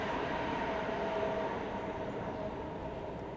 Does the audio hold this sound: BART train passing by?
yes